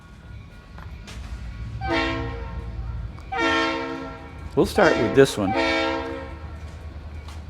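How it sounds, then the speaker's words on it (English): A BNSF model train locomotive starts up, giving several loud sounding horn blasts with rail rumble beneath, while someone speaks briefly in between. "So let's start up a train and see how it goes."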